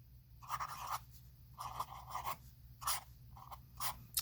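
Fountain pen nib scratching across paper in short bursts of writing strokes, close and quiet, with brief pauses between words and no talking.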